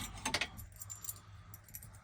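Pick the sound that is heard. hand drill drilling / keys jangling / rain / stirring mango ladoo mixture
keys jangling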